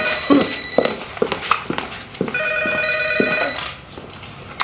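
A telephone rings in a home, its bell sounding in repeated bursts over a steady electronic tone, loud and close, with light clatter and thumps around it.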